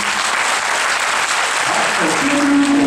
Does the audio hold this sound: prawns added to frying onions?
no